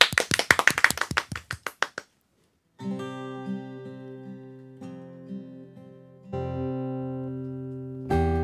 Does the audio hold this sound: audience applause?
yes